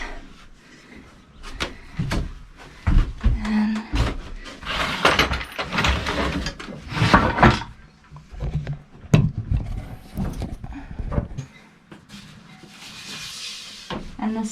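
Sliding wooden galley doors on a boat are fitted and slid along their tracks, giving repeated scraping rumbles, knocks and sharp bumps at an uneven pace, loud and close.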